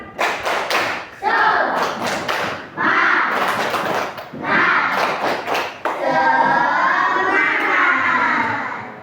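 A class of children in a classroom claps in quick rhythmic bursts while chanting loudly together, ending in a sustained shout.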